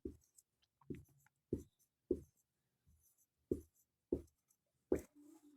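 Marker or chalk writing out a matrix on a classroom board, a series of short separate strokes and taps in an irregular rhythm, close and fairly quiet with no talk.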